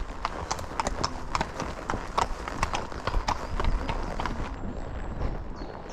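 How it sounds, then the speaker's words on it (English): Steady clip-clop of horse hooves, heard from a rider's helmet camera, a brisk regular rhythm up close, with faint background noise throughout. "There's more horses."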